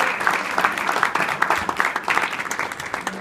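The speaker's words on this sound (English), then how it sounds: "let's give them a round of applause for going through and supporting your academic achievement." An audience at a graduation reception breaks into applause, many hands clapping in a dense, moderately loud wash with individual claps standing out up close, lasting a few seconds without speech.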